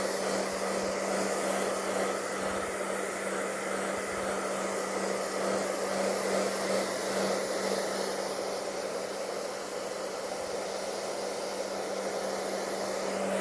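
A blower dries wet paint on a canvas with a constant, close whooshing roar and a steady motor hum, unchanging throughout, with no talk.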